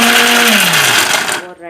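Kitchen mixer grinder whirring loudly and close as it grinds ingredients for a spring onion stir fry, its motor pitch slowly dropping under load before it cuts off abruptly near the end.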